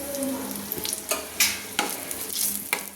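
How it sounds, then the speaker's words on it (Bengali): Bay leaves torn into pieces and two whole dried red chillies frying in hot oil in a pan, a steady close sizzle broken by several sharp spattering crackles and the scrape of stirring. "এবার আমি দিয়ে দিচ্ছি দুটো তেজপাতাকে আমি 4 টুকরো করেছি দিয়ে দিলাম দুটো গোটা শুকনো লঙ্কা।"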